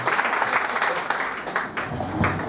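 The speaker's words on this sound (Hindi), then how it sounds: "एक बार जोरदार तालियां नहीं होनी चाहिए?" Loud, continuous applause from a crowd at a business gathering in Kota, a dense wash of clapping running steadily throughout with voices mixed in.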